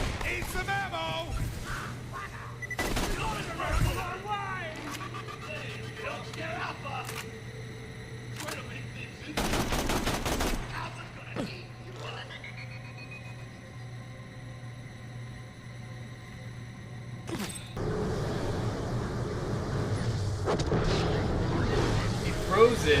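Gunfire and explosions ring out during play of the first-person shooter Borderlands The Pre-Sequel, arriving as sharp bursts and blasts among game sound effects and tones.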